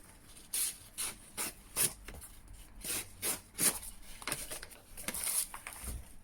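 A blade rubs back and forth across an old oilstone in a series of short, rhythmic rasping strokes, quiet and close, with brief pauses between passes.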